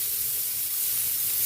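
Garlic and onion sizzle in a hot pan as a steady, close hiss with a broad spray-like texture, constant and unbroken, with no talk.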